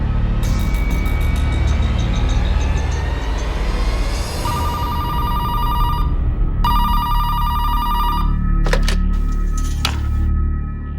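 A telephone rings in repeated electronic trills, mid-loud, over a steady low rumble of background noise.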